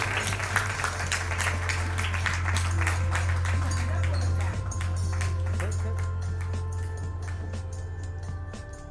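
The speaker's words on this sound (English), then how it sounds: "Please, ladies and gentlemen, applause the man himself, the heartbeat of the brand, Mr. Ravi Chawla, on stage with all of us" An audience at a book launch applauds steadily as a man comes on stage, a dense patter of claps over a low steady hum, holding for several seconds and gradually thinning.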